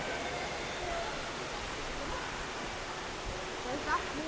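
At the Eden Project, a small stream runs into a pond inside a large indoor biome, giving a continuous soft rushing of water at low level, with a faint brief chirp near the end.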